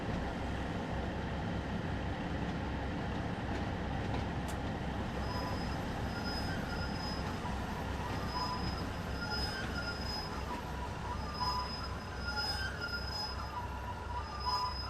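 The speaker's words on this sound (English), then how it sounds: "The brakes actually don't sound too bad from the inside. There is that squeal." Two-coach train in Train Sim World 2 on a West Cornwall local line, heard from inside: a steady rolling rumble with a thin, high brake squeal that sets in and recurs intermittently over the run, no talking.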